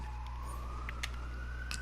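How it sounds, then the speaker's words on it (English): An emergency vehicle siren wails outside on a downtown street, a steady rising tone heard from a distance and holding throughout, with brief higher chirps cutting in over low traffic rumble. "sorry for the siren. I live downtown."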